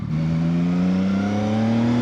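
A 2025 CFMoto 675SR-R motorcycle engine hums steadily and close, its pitch rising gently as it accelerates, with no voices over it.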